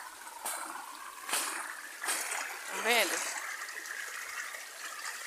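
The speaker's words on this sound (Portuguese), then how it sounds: "E o córrego tá passando no meio do milharal." A stream flows through a cornfield on a rural farm, trickling and splashing softly in the background while a person speaks over it.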